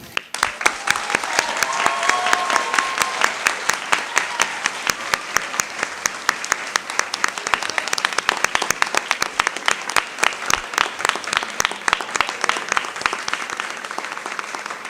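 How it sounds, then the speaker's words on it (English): Sustained applause from a large crowd at a graduation ceremony, dense rhythmic clapping filling the space for a long stretch, loud and steady with no talking. "You may applaud your graduate."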